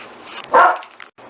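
A dog gives a single loud, close bark after being let outside, with a short quieter yelp after it and little else around.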